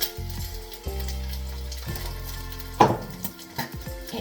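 Egg frying in a pan, sizzling and popping close by with a crackling hiss, alongside steady tonal hums and a sharp clatter of cookware near the middle.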